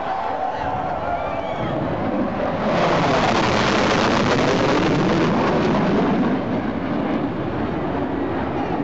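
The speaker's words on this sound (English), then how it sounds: "The Royal Australian Air Force does a dump and burn manoeuvre at night." A Royal Australian Air Force fighter jet doing a dump and burn at night roars steadily, swelling louder partway through into a harsh, sustained rushing blast that continues to the end.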